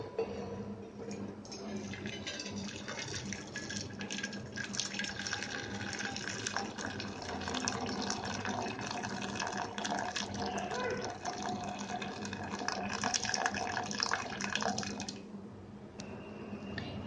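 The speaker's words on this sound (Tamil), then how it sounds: "நம்ம இப்போ இது வெறும் தண்ணி மட்டும் வடிச்சுக்கலாம்." Water draining from cooked drumstick leaves for a soup, a steady, continuous splashing gush running for the whole stretch, fairly loud and close, easing slightly near the end.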